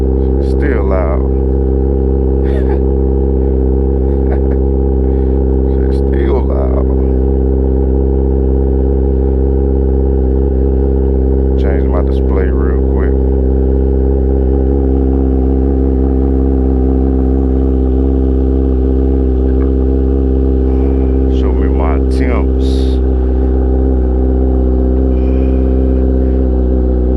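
A 2022 Kawasaki ZX10R sportbike with a cracked carbon fiber exhaust tip idles loudly after a cold start, its steady low rumble running the whole time while a person talks over it.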